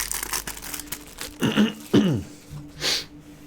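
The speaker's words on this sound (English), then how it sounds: "Sorry for clearing my throat." A person with tonsillitis clears their throat with a few rough, harsh bursts at close range, separated by short pauses.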